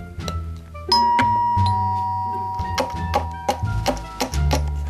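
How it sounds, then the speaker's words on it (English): A chiming doorbell rings out with sustained ringing tones, followed by a few brighter chimes and clinks, in the cartoon Littlest Pet Shop. "Okay, ring the doorbell now."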